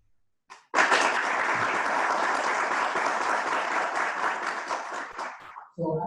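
A live audience breaks into sustained, dense applause that starts abruptly, holds steady and loud for about five seconds, then cuts off as a voice begins speaking.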